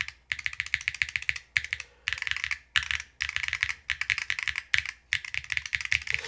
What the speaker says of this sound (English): there is a noticeably a deeper sound and more plasticky sound with the PBT